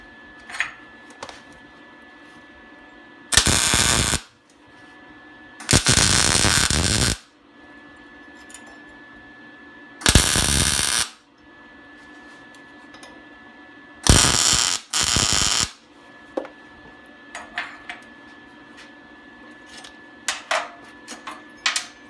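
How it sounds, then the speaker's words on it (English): A MIG welder tack welds steel horseshoes in short loud crackling buzzes, several separate bursts of one to two seconds with quiet gaps and faint shop clinks between. "you're going to tack weld 1 spot here and 1 spot here"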